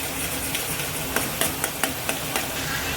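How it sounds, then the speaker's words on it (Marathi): Masala spice paste sautéing in a pan for an egg curry, a soft steady sizzle broken by sharp clicks and taps of a spatula against the pan. "आपला मसाला असा छानसा परतत आहे"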